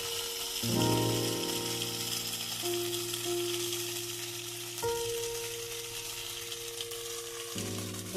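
Pointed gourd and potatoes sautéed with salt in a pan, giving a close, steady sizzle and frying hiss that runs continuously, with occasional stirring clatter breaking in.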